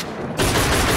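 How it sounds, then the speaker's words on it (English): Sustained automatic gunfire from Velvet Assassin starts abruptly after a quieter moment and becomes a loud, dense, continuous volley of shots. "Pump like 80 bullets in this guy."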